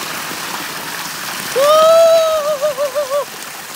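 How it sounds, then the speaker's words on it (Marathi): Water rushes steadily like a nearby waterfall at Nagaon, Alibaug, and a brief warbling whistle-like tone rises over it partway through. "धबधबा"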